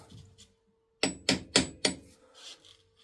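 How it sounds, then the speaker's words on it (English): Engineer's hammer tapping a steel and brass workpiece on a lathe, four sharp close strikes in quick succession after a quiet moment. "So this is where you need your engineer's hammer."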